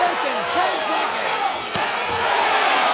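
The boxing crowd roars as a round between Oscar Valdez and Scott Quigg ends, a dense wash of cheering and shouting from a large arena audience, with a ringside commentator talking over it.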